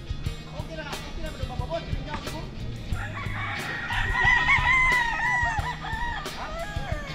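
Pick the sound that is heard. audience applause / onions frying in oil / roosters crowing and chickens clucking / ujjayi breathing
roosters crowing and chickens clucking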